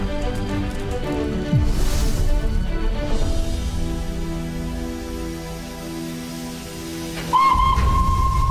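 Flying Scotsman, an A1 Pacific steam locomotive, gives a steady steam whistle that enters late and holds loud over a constant hiss and rumble.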